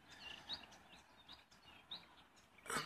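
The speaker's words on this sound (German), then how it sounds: "Man hört es auch an den Vögeln schon." Birds singing in a warm April landscape by a peninsula, with short bright chirps and whistles scattered through a quiet outdoor ambience at moderate distance, ending in a louder close call.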